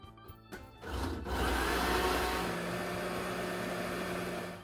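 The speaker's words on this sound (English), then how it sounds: "we've got our tomatoes, our garlic, our onion, and our cumin seed in the blender" A blender holding tomatoes, garlic, onion and cumin seed whirs up after a few clicks, then runs at a steady, loud, high-pitched drone for several seconds.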